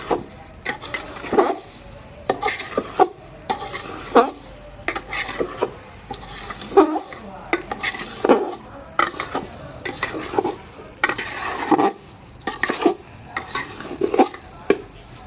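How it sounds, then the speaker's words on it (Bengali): Washed Gobindobhog rice stirred and fried in a pan, a repeated scraping of a spatula against the metal over a steady soft sizzle, loud and close, with no voices. "দিয়ে এবার চালটাকে লাল লাল করে ভেজে নেবো সুন্দর করে।"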